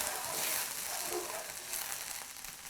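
Wagyu filet pan drippings flambéing with shallots and herbs in the pan, giving a steady broadband sizzle and airy rush of flame, loud and close, holding without a break and with no talk over it.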